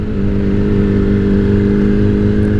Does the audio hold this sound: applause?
no